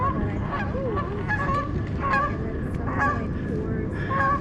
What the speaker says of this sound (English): Sounds like there's a bit of a goose battle over there.